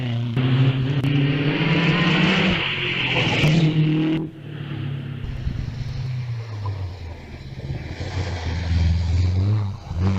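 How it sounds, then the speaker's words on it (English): A vintage Bugatti Type 51 race car climbs the Wiscombe Park hillclimb, its engine revving hard through several gear changes with a sharp drop in pitch between rising bursts, loud and close. "Followed by Ed Burgess in the Type 51."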